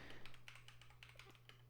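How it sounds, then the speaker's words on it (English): Computer keyboard keys are tapped in a quick, uneven run of faint clicks over a low steady electrical hum, with no speech. "I don't know what I pressed, but my keyboard just went crazy."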